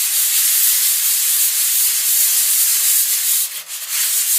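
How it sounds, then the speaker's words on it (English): A car bonnet is sanded by hand with sandpaper in circular motions, giving a steady, close, continuous hissing rub with only a brief break near the end. "So I'm just going to continue to make circular motions."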